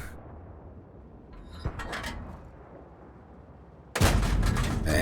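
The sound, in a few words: tank gunfire in a video game, Type 3 Chi Nu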